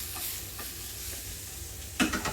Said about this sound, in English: here we have our onions on the stove cooking away